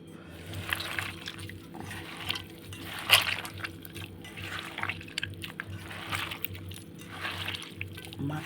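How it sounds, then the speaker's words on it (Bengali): Boiled flat beans (shim) squished and mashed by hand in a home kitchen, giving soft wet squelching and sticky liquid sounds that come and go steadily through the clip, close and fairly quiet. "এইবারে ছিমটাকে আমি চটকিয়ে সুন্দর করে মাখবো।"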